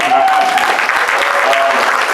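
Conference audience giving a round of applause, dense steady clapping filling the hall, loud and close, with voices mixed in underneath.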